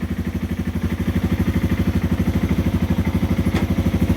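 A Yamaha TW200 motorcycle engine idles close by with a steady, even low thumping pulse that holds throughout, with a faint clatter near the end.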